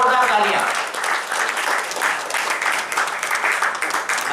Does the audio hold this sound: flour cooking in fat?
no